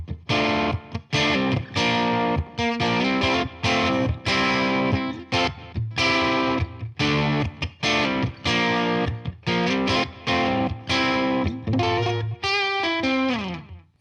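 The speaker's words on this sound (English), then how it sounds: "it does sound pretty good just through a light distortion" Electric guitar, a Parker PDF35, through light distortion plays a run of punchy chords and notes, steady and loud with short gaps, no voices.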